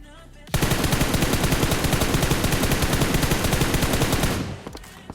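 Sustained automatic gunfire from the PUBG Mobile Livik map, a dense rapid rattle of shots lasting about four seconds, loud and close, then cutting off into a few scattered faint pops.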